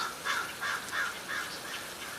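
A crow caws repeatedly, five or six harsh calls in a steady rhythm, moderately close against faint background hiss.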